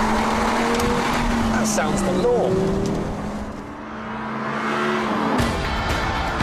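An Audi R8 with a V10 engine revs and accelerates, its engine note rising and falling with some tire noise, close and loud beneath someone talking.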